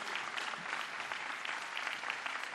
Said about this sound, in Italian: Fatevelo più forte l'applauso